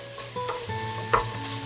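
Aromatics stir-fried in a pan with curry powder and turmeric, a steady close sizzle with a few scraping stir strokes and one sharper clink partway through.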